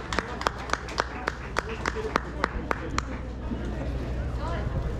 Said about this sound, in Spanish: fuerte los aplausos, que son ellos quienes hicieron posible este segundo festival de la Vendimia Boté